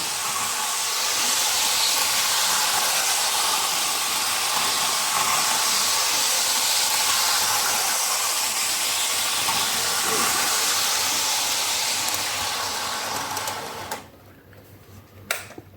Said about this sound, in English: So now the motorised power car is pushing the train round